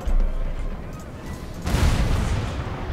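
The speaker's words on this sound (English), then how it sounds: "Cannons are able to fire safely over here" Cannon fire from artillery in the Napoleon: Total War battle game, heavy booming with rumbling low-end, a sharp burst rising midway and sustaining as dense rolling blasts.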